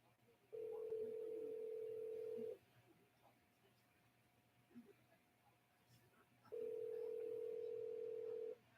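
Two long, steady ringback tones from a phone call played on speakerphone, each lasting about two seconds with a pause between them, heard clearly against quiet room noise.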